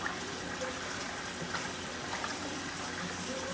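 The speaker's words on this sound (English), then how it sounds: "And just go ahead and wash it." Running water rinses collard greens in a kitchen, a faint, steady splashing rush with occasional small knocks and no speech.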